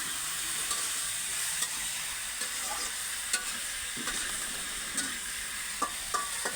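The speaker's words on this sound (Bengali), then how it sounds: "এই যে ওই মাছ রান্না করা হচ্ছে," Puti fish frying in a pan, a steady close hiss of oil with scattered sharp pops and crackles throughout, no voices.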